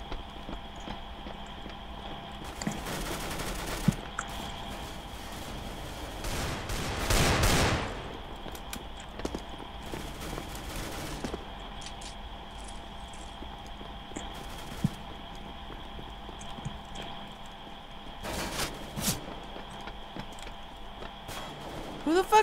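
Gunfire in the CS:GO video game comes as a few scattered loud bursts over a steady background hum, with sharp isolated shots in between and long quieter stretches.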